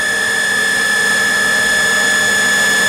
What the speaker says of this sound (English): we'll do one manual movement of the spindle and raise it without doing a cycle, just so we can listen to the spindle